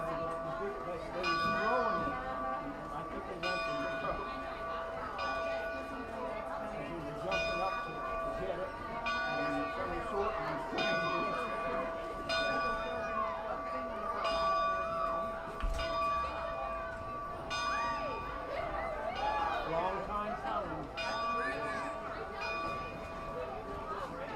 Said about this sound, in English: as they continue to ring the bells